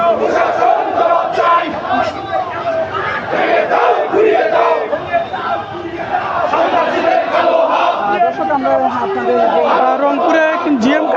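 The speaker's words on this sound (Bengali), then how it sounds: "তারপরে একটি বিক্ষোভ মিছিল নিয়ে তারা এখন রয়েছে নগরী জাহাজ কোম্পানির মোড়" Crowd of Jatiya Party supporters chanting loudly in a street protest march in Rangpur, a dense, continuous roar of massed voices and shouted slogans throughout.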